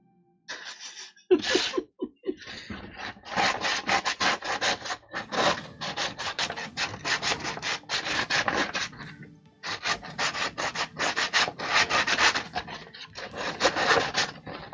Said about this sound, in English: Once I get into a good rhythm of the sanding, it goes fairly smooth